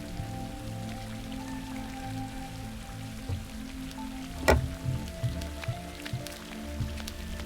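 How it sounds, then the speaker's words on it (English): Steady rain patters down in the Rising World video game, a soft continuous hiss of drops with a low ambient hum and one brief sharper tap midway. "it's another rainy day"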